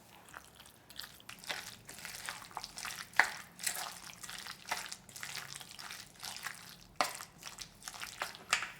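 Spicy fermented squid side dish being mixed by hand, wet squelching and sticky smacking sounds arriving in an irregular rhythm, close up and fairly quiet, with no speech.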